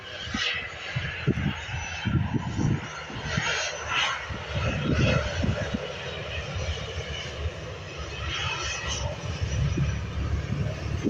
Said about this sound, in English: another Ryanair Boeing 737 aircraft, this one heading to Cologne